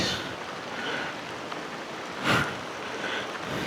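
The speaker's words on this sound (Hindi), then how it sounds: "ज़बरदस्त बारिश हो रही है" Heavy rain pouring down during a rough motorcycle ride in North East India, a loud, steady hiss of falling water with a short louder gust midway, close and continuous, without speech.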